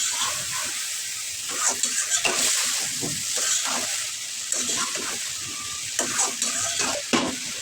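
Taro stolons being stirred with prawns frying in a pan, a steady sizzle with scraping stir strokes recurring through the clip, close and fairly loud, no talk.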